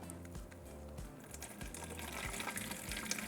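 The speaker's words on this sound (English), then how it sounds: "We're going to pour it through" Horchata's blended rice mixture is poured through a fine mesh strainer lined with cheesecloth, a steady, close liquid gush with low sloshing pulses running continuously throughout.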